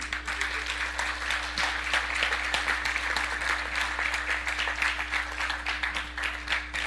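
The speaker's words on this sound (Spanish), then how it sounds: "Dele un aplauso al Señor" Congregation applause during a church service, with a steady wash of many hands clapping at moderate distance over a constant low electrical hum.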